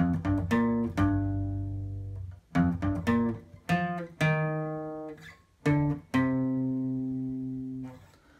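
Plucked guitar notes ring out one after another in a slow riff, each struck clearly and left to decay, with no voices.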